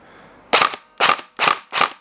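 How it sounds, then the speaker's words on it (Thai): A Tokyo Marui HK416 Delta NGRS electric airsoft rifle, fired with no magazine inserted, gives four sharp mechanical cracks in an even rhythm, each a short loud burst close by with no talk over it. "เมื่อเราทำการยิงแล้วไม่ไม่ล็อกนะครับ"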